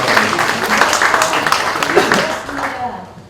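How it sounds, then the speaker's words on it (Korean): Applause from an audience at a university labor union general assembly in a hall, dense steady clapping that carries on for several seconds before thinning out and fading near the end. "박수로 하겠습니다"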